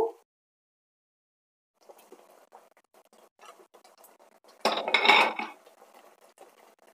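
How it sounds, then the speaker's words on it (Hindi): Koftas made from banana flower are dropped into a pan of gravy, giving a short burst of clattering and scraping around the middle, with light utensil clinks before and after. "अब हम इसमें ऐड कर देते हैं कोफ्ते को।"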